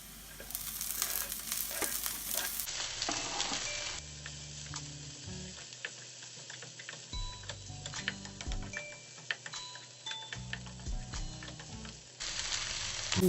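Garlic and red onion stir-fry in a pan, a bright sizzle broken by ticking clicks of a utensil against the pan, fading and returning in uneven stretches.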